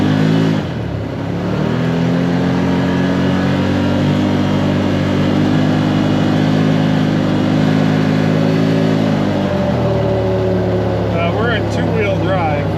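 A Can-Am Maverick Sport Max side-by-side engine, pre-clutch, revs loudly and steadily with its pitch rising and holding, then dropping off near the end, while someone talks over it.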